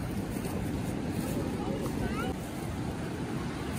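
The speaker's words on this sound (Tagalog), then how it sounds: "Lakas ng alon, guys." Strong ocean waves at Pantai Cenang beach in Langkawi, Malaysia, give a constant loud wash of surf mixed with heavy wind rumble on the microphone, with no distinct breaks between swells.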